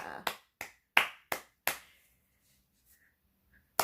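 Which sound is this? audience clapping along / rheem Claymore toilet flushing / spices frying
audience clapping along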